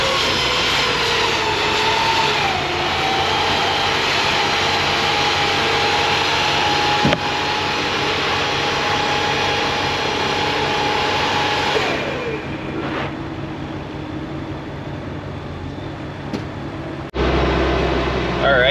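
A Buffalo Turbine blower runs with a loud, steady jet-like roar close by, its tone shifting partway through before cutting off abruptly near the end.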